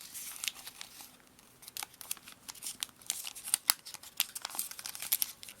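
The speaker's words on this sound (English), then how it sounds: "we're going to petal fold them" Crisp origami paper crinkles and rustles close by in quick, soft bursts as its flaps are creased into a petal fold for a star-shaped Tato, with no one talking.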